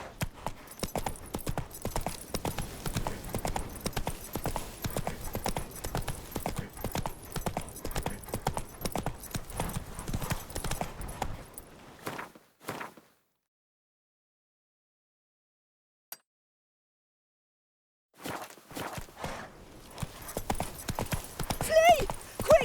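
Roach, the horse in The Witcher 3, clip-clops at a steady brisk pace for several seconds, then falls silent with one lone click, and the hoofbeats resume near the end.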